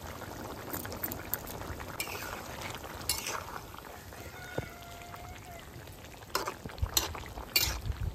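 Fish curry with fresh river fish, papaya and garlic simmering in a pan, with steady stirring, soft bubbling and a few sharp utensil clinks against the pan, close and fairly loud.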